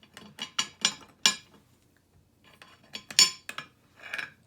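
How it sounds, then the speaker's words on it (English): Dry scone ingredients such as salt, baking powder and sugar being stirred in a bowl, giving a series of close clinking, scraping taps in two bursts separated by a short pause. "First, I'll mix all the dry ingredients"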